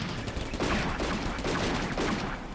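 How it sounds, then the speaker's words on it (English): Scattered rifle fire from a World War II desert battle in Combat Mission: Afrika Korps, a dense, continuous crackle of overlapping shots at moderate distance with no talk. "Yeah, the rifles are shooting."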